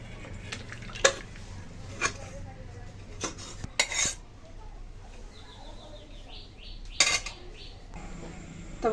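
A pot of rui fish curry with drumsticks and potatoes is taken off the stove, marked by several sharp metallic clanks of pot and utensils spaced a second or so apart over a quiet kitchen background.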